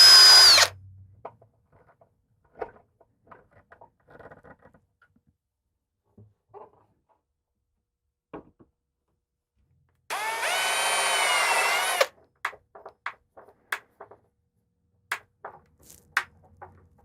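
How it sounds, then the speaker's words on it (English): A power drill bores pilot holes into wooden stair-tread boards for a rolling shelf, one loud sustained whir of about two seconds, framed by a brief burst at the start and scattered light knocks and taps of handling. "just barely enough so we can drill our pilot holes"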